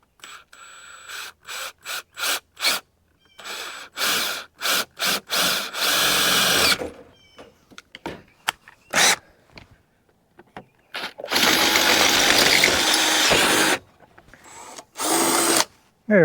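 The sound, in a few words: drilling a hole through a heat press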